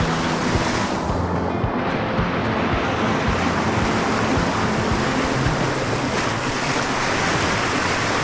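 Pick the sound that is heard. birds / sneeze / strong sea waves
strong sea waves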